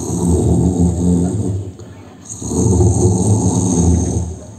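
A preacher at a Sundanese wedding sermon imitates a person snoring, giving two long, loud, rasping snore-like breaths separated by a brief pause, close and dry, with laughter or crowd noise faintly mixed in.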